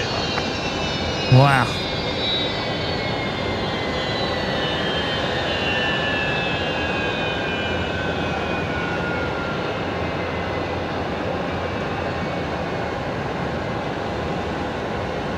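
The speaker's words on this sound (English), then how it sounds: "Noisy old Fokkers there. Those Rolls-Royce Tays absolutely singing." An old Fokker jet airliner with Rolls-Royce Tay engines roars loudly and continuously at night at Brisbane Airport, its whining engine tones sliding downward as it passes, with a brief exclamation from a person near the start.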